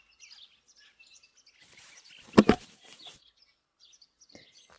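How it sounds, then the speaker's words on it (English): A sparrow in the video game Martha Is Dead gives faint scattered chirps, then a sudden brief flurry of flapping wings midway before quiet chirps resume. "Yeah, sparrow"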